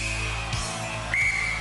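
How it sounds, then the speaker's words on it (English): A referee's whistle starts a race at a 1993 UK Gladiators semi-final, two shrill blasts, the second longer, over loud, steady arena crowd noise. "Paula, you will start on my first whistle."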